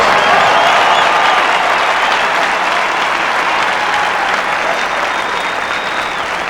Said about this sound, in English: give all of them a great round of applause